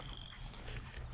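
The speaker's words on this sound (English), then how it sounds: "we got frogs croaking in the background" Frogs croaking around a pond on an outdoor walk, a dense steady chorus of close, continuous calls with a thin high whine running above, no voices.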